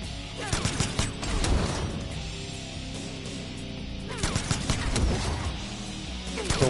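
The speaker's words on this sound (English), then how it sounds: "So instead you can just duck all 4 shots and then block rockets." Gunshots and rocket blasts from Jacqui in a fighting video game: rapid clusters of sharp cracks and crashing impacts in two bursts, over a steady tonal game backdrop.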